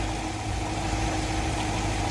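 A Range Rover Classic engine idles steadily after running for some time, a constant low rumble with an even mechanical hum, close and unbroken throughout.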